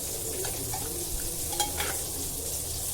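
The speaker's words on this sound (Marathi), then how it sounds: "हळुवारपणे चमचा घालून ही मच्छी म मिक्स करायची आहे" Spoon gently stirring an Agri-style fish curry of dhatri fish as water is added, giving a soft, steady stir with faint scraping and liquid movement, close and quiet, with no talk.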